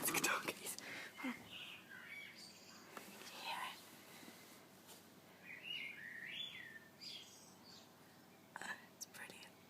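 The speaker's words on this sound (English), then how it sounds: "there's birds singing outside" Birds sing and chirp outdoors in a quiet setting, with several clear warbling phrases at a moderate distance. A soft whisper is heard near the start.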